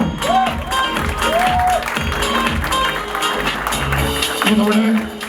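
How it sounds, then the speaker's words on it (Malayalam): Audience clapping at a film title launch and switch-on ceremony, a continuous crowd applause mixed with murmuring voices and scattered noise, fairly loud and steady before tapering off at the end. "ഒരു കൈയടി കൊടുക്കാം"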